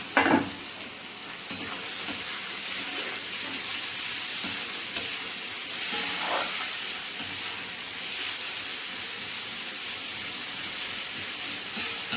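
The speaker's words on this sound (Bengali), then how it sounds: "এবার এতে পেঁয়াজগুলো ভাজা হবে" Onions sizzle in hot oil with whole cinnamon, cardamom and cloves in a pan for Bengali mutton curry, a loud continuous hiss with occasional stirring clatters and no talk.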